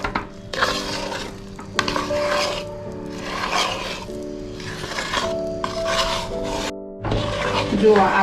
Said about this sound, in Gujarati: હવે આપણે એને બરાબર મિક્સ કરી લઈએ